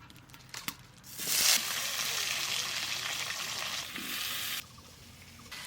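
Magur catfish and potatoes fry in oil in a wok, giving a loud, steady sizzle with occasional stirring. A few clatters come just before it swells, and it thins out briefly near the end.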